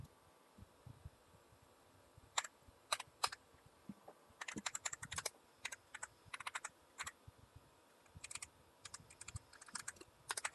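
Bursts of typing on a computer keyboard, quick clusters of clicky keystrokes separated by short pauses over a low background hum, fairly quiet and close.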